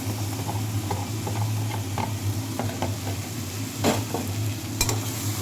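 Chicken pieces already fried in a pan as a sauce mixture is added for chilli chicken, giving a steady close sizzle with scattered stirring clicks and scrapes, no voices.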